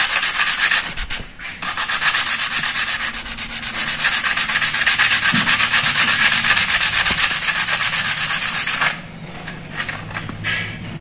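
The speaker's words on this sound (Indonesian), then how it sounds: "ini udah saya amplas tadi bagian pinggirnya sini ya" Sandpaper rubs against the side of a guitar bridge in steady, rapid back-and-forth strokes. The close, continuous scratchy grind runs for about nine seconds, then pauses briefly.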